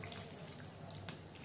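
A small amount of water is poured over pepper chicken in a pan, giving a soft, steady trickle and splash, faint and close, with no talking.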